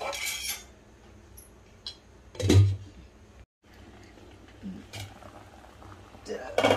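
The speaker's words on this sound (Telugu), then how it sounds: "ఇవి దీంట్లో వేసుకొని మనము ఒక 10 నిమిషాల పాటు ఉడికించుకోవాలండి." Tomatoes boil in water in a covered pot for pickle, a low steady bubbling under a few sharp clinks and clatters of lid and utensils.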